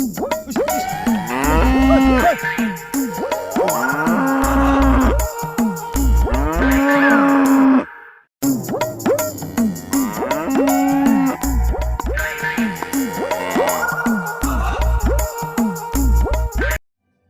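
A cowherd's cows moo loudly and close by, a series of long, drawn-out bellowing calls that overlap and repeat in two bursts separated by a short silence.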